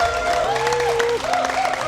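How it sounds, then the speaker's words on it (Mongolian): Guests at a Mongolian wedding held in Korea break into warm applause, a dense, steady wash of clapping with soft music tones ringing underneath throughout. "та бүхнийхээ халуун алга ташлтыг дахин нэг сонсъё"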